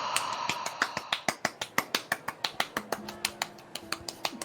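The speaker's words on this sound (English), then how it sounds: "Oh, my mic's not picking up my clapping very well." Hand clapping picked up through a microphone: about twenty crisp, quick claps in an even, steady rhythm, fairly faint, with a brief low tone sounding underneath partway through.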